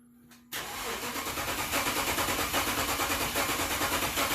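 A 2014 Dodge Charger 5.7L engine that barely runs, cranking after a brief quiet hum: a loud, rhythmic starter churn with even pulses that continues steadily to the end.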